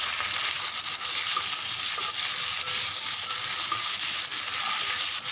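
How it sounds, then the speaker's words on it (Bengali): Pointed gourd (kakrol) and potato pieces fry in a little oil in a wok, a continuous close sizzle broken by light stirring scrapes and crackles. "অল্প পরিমাণে তেল দিলাম, বেশি লাগবে না, সেই কাঁকরোলটা এবং আলুটা ভেজে নেওয়ার জন্য"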